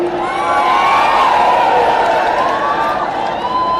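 A large crowd at a BSP political rally in Mainpuri cheers and shouts continuously, a loud dense roar with whoops and rising excited voices over several seconds.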